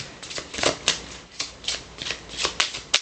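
Tarot and oracle cards are shuffled by hand close up, giving quick riffling bursts in an uneven rhythm that end with a few sharp taps.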